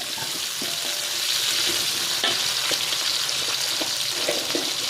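Chilies and shallots fry in a pan with a steady, loud hiss and sizzle, broken by faint spattering pops, close by and without any voices.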